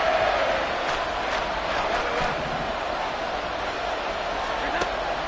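A football stadium crowd on its feet roars steadily on a third down, a dense, sustained wall of cheering with no clear breaks.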